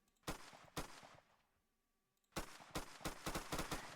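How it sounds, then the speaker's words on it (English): Rifle gunshots in the Roblox game ER:LC, two sharp shots, a pause, then a rapid run of loud, close shots. "they did also update the rifle sounds"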